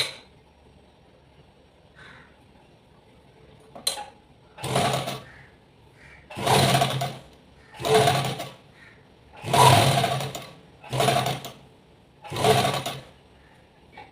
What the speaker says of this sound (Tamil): இந்த கழுத்தை சுற்றி வந்து 1/2 இன்ச்சில் நம்ம தைக்க போகிறோம்.